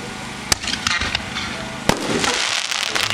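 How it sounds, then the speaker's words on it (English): Heavyweight 60-gram canister firework shells bursting at a night fireworks demo, two sharp loud reports over a continuous crackling, hissing wash of smaller pops and rumbling bursts. "Moving on to number 10, heavyweight. These are 60-gram canister shells."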